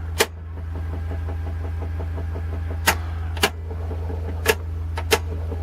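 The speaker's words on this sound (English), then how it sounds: "Notice the motor speeds up." A cassette tape deck motor hums steadily during fast forward, a low constant drone broken by several sharp mechanical clicks and clunks from the transport.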